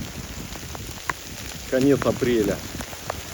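Hail pelting down in gusty wind at an outdoor site in late April, a steady dense patter of small impacts with a few sharper hits, while someone talks briefly over it.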